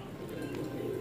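A black pigeon coos softly close by in a brief burst, set against a low, steady background murmur and with no talk over it.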